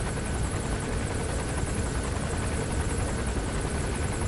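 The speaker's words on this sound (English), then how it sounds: "Looks like the arms dealer's chopper is going to patrol for the security forces." Arms dealer's helicopter in Metal Gear Solid V, a steady, loud rotor roar with dense low-end chop and broadband wash, continuous throughout with no break.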